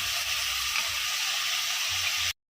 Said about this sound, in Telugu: ఇలా ఉడుకుతున్న టమాటోస్ని మంచిగా కలుపుకోవాలి